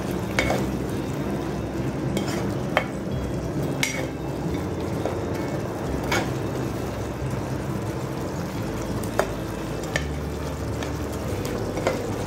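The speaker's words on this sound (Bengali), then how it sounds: "এখন আমি ভেজে রাখা মাছটা অ্যাড করে দিলাম দিয়ে ভালো মতন মাছের সাথে গ্রেভি মিক্সড করে দেবো" Fried fish being stirred into bubbling gravy in a pan for a Bengali mourola fish jhal, with a steady simmering sizzle and scattered clicks of the spoon against the pan throughout.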